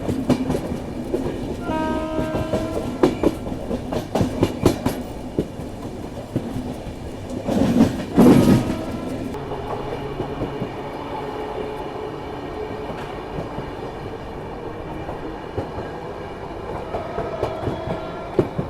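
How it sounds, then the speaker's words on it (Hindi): An Ahmedabad–Gorakhpur Express passenger train rumbles steadily along the rails near Godhra station with rhythmic clatter, a horn sounding partway through, loud and close throughout. "और बाकी अपनी ट्रेन पहुँच रही है गोधरा रेलवे स्टेशन।"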